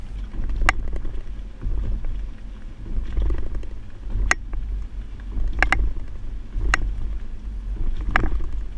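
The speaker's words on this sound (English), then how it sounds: "Now we're at the alternating speed bumps." A 2016 Toyota RAV4 carrying a Kuat NV 2.0 bike rack for two bikes rolls over alternating speed bumps, with a low road rumble broken by several sharp rattling knocks and clunks at irregular intervals.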